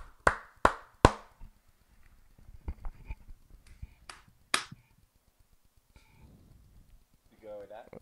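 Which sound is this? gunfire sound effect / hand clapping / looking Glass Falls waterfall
hand clapping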